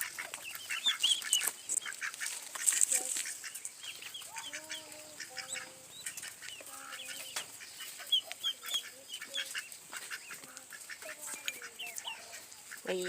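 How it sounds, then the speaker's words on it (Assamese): Domestic ducks and chickens in a farmyard call back and forth, with repeated nasal honking quacks and clucks in short bursts over a steady background of distant birdsong; no one speaks. "এইয়া আমাৰ হাঁহ"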